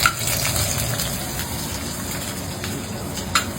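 A whole onion drops into hot mustard oil in a village kitchen, giving a loud gushing sizzle that holds steady, with a small pop at the start and another near the end.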